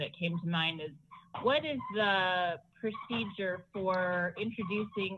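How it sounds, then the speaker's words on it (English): A dog barks and whines repeatedly indoors, close and loud, the high yelping barks broken by short pauses and overlapping someone speaking during a council meeting. "sorry, that's my dog"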